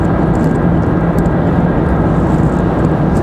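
A Cirrus SR-22 small propeller plane at Raleigh Durham International Airport, heard as a loud, steady, continuous engine roar with no talking.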